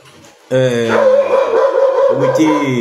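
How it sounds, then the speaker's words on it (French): A dog barks and yowls loudly and close in a continuous, howling run of barks lasting a couple of seconds, with no clear breaks. "allez-y un peu calmer le chien là"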